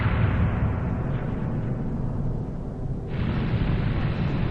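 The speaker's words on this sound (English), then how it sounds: "Explosion." A big explosion in Final Fantasy VII: a loud, sustained rumbling blast fills the clip, dips briefly, then swells again in a heavy roar.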